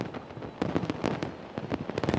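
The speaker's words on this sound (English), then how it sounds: "This fireworks show is amazing." New Year's Eve fireworks bursting over a beach in Rio de Janeiro, a steady, dense crackle of overlapping pops and booms that keeps going without a break, with no talk over it.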